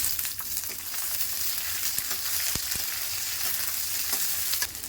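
Onion frying in hot oil with urad dal and a sprig of curry leaves for tomato rice, a steady close sizzle with a few sharp crackles and pops.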